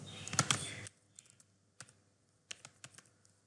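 Computer keyboard typing C++ code, a brief burst of dense clattering keystrokes followed by sparse, quiet individual key taps spaced out irregularly, close and alone without talking.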